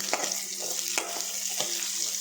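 Shallots and dried red chillies sautéing in oil in a pan for moong dal sambar, a steady close sizzle broken by a few light stirring taps, no voices.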